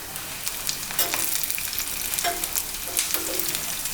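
Ginger and a pinch of asafoetida sauté in hot oil in a pan for curd rice, a steady close sizzle with occasional stirring scrapes, no voices.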